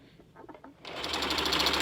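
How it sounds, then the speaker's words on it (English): A sewing machine stitching along the hem of a dress starts up after a soft lead-in and runs at a fast, steady, close-up whir. "sew straight down the line, as close as you can get to the left side of that hem"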